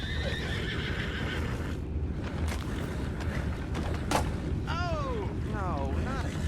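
Horses in the Red Dead Redemption 2 game whinny and neigh in several rising and falling calls over steady creaking and a low rumble, with faint hoof clopping and quiet speech in the mix.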